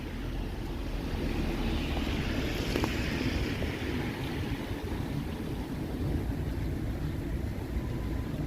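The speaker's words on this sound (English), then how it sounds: "Okay, wind, we've had enough of you." Steady outdoor wind buffets the microphone on a cold Toronto evening of mixed rain and snow, a constant broadband roar filling the whole stretch with no pauses.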